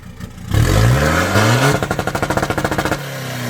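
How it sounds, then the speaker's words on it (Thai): A Chevrolet engine with a stage 3 remap revs hard, then stutters in a rapid, rhythmic popping as it bounces off the rev limiter before dropping back to idle. "เดี๋ยวลองเบิ้ลตัดดูก่อนครับ"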